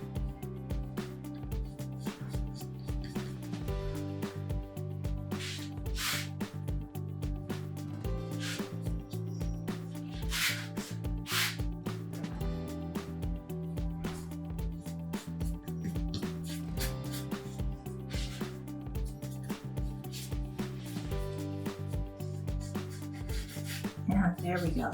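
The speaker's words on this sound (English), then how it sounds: "And I'm just smoothing it out as I go." Decoupage paper is rubbed and smoothed by hand across a wooden sign in a continuous, scratchy stroking sound. It is close and steady throughout, with a faint tonal hum beneath.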